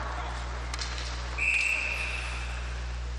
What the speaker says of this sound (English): That's whistled down as that turn.